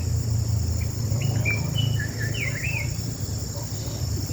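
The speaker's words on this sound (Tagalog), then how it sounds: "Huni ng ibon ang naririnig natin." Birds chirp in short, scattered calls outdoors on a farm while clearing a ginger bed, heard over a steady, dense drone of insects, with no talking.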